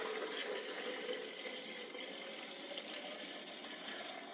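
Purified water being poured into a container at home, a faint continuous hissing, splashing stream that runs steadily for several seconds with no speech.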